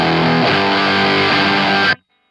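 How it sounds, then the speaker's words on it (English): A heavily fuzzed electric guitar chord through a Color Box overdrive pedal rings out loud and saturated, shifts once early on, then cuts off abruptly into silence. "That's still kind of in distortion territory."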